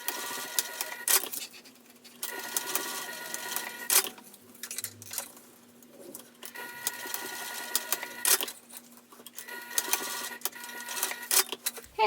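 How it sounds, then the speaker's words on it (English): A sewing machine stitches down a fabric strap for a crossbody bag in several rapid whirring bursts of stitching, separated by short quiet pauses, recorded up close with no talking. "stitch down these 2 spots that I have clipped"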